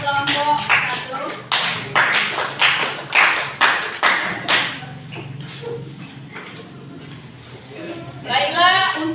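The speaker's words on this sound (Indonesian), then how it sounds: "Tepuk tangan sekali lagi buat kelompok 1." Classroom audience clapping for a student group after its presentation, a series of sharp rhythmic claps in an even beat that thins out, with voices speaking near the end.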